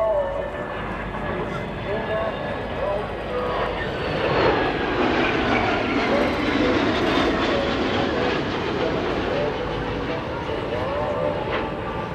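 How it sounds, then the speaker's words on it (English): Air Belgium Airbus A330-900neo jet flying by at an airshow at sunset, a broad rumbling engine roar that swells toward the middle and slowly fades, with a narrator speaking over it. "Kijk maar naar de Airbus A330 die komt aanvliegen van Air Belgium."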